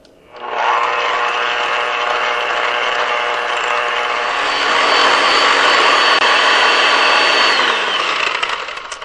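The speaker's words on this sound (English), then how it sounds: "I'm going to use my little mixer, and we're going to mix this together." An electric hand mixer beats cream cheese, egg and vanilla for a cranberry cake batter, a steady loud whirring drone that starts abruptly and holds for about eight seconds, rising slightly in pitch midway, with no talking.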